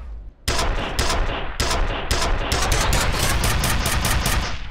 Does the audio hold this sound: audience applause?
no